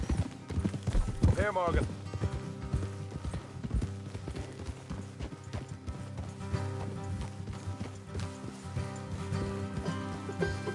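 Hooves clip-clop steadily as horses ride along a road in Red Dead Redemption 2, close and continuous beneath music, with a brief whinny early on and someone speaking.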